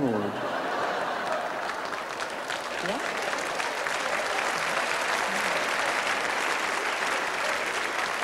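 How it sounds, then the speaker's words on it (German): A parliament chamber fills with steady, dense applause that holds evenly from start to end, with a few faint chuckles and voices mixed into the crowd noise. "auch Applaus von der Linken"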